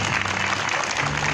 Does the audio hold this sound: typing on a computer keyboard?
no